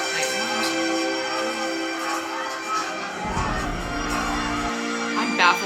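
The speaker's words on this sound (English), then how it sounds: "they're all cheering for him" A crowd cheering in the show A Knight of the Seven Kingdoms, a steady wash of shouting and whooping voices, with a low rumble partway through, sustained at moderate loudness.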